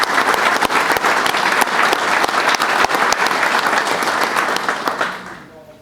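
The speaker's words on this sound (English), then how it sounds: "Let's give our committee a round of applause" Audience applause at a county high school football preview night, a dense steady round of clapping from a crowd that carries loudly for several seconds and then tapers off near the end.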